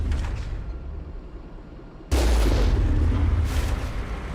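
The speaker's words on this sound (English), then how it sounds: "it's letting me shoot him with the cannon this time" A cannon shot fired in the Mass Effect 1 video game lands as a single sudden, heavy boom partway through, after a quieter stretch of ambient game sound, and sustained rumbling follows it.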